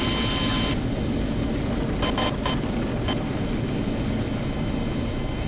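Helicopter in flight during a full-down autorotation practice with the throttle rolled back, giving a steady, loud broadband rotor and airflow roar throughout with no voices.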